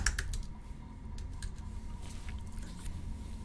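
A search is being typed on a computer keyboard, with soft, rapid key clicks that cluster at the start and then continue faintly over a steady background hum.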